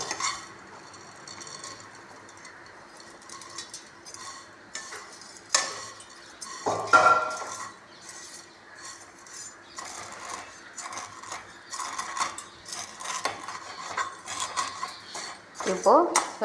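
Vermicelli roasting in ghee in a pan, with a spoon scraping and clinking against the metal in irregular stirring strokes over a faint sizzle.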